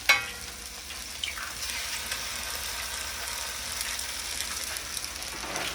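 Eggs fry on a hot griddle for kottu roti, giving a steady close sizzle after a brief opening clack, with no voices.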